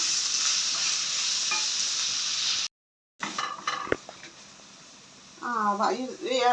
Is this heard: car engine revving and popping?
no